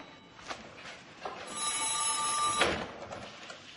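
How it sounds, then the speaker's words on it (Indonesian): A telephone bell rings in a single bright, sustained burst of about a second, standing out over quiet room ambience. "Sambungan telepon sudah pulih."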